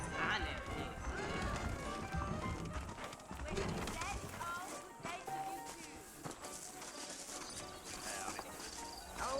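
Horse hooves clip-clopping along a trail in the Western game Red Dead Redemption, a steady galloping rhythm under loud music and speech throughout.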